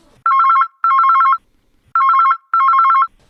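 Telephone ringing for a phone-in call on a local broadcast, two clear double-burst electronic rings with a pause between, loud and close with no talk over them.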